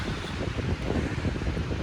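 Strong wind roars steadily on a mountain hike up Mount Shpytsi, buffeting the microphone with a constant broadband rush and low rumble, with no voices.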